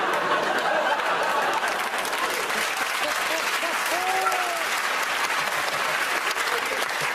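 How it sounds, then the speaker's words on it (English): Studio audience applause on a comedy panel game show, a loud, dense and continuous wash of clapping with a few cheers and chuckles mixed in throughout. "Round of applause, you're a genius."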